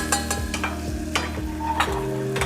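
Garlic and pimentos fry in butter in a pan, a steady close sizzle broken by several scraping strokes of a quick stir.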